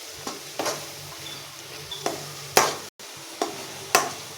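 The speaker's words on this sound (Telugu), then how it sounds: "మంచిగా మిక్స్ అయ్యేలాగా మిక్స్ చేయండి" A spoon stirs chili powder into tomato curry in a pan, giving about seven distinct scraping strokes over a soft, steady sizzle, close and without talk.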